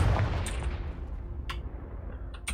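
A Confringo blast spell cast in the Hogwarts Legacy video game, heard as a low rumbling burst followed by a few sharp crackling impacts over a steady game background, with no talking.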